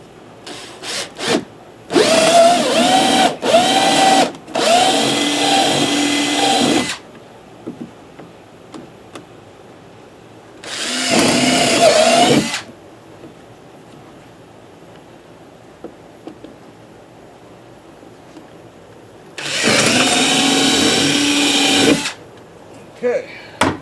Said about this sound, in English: So you're going to drill in